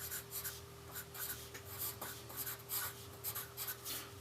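Pencil writing by hand on paper, a soft close scratching in short rhythmic strokes with brief pauses between letters, quiet and steady with no talking.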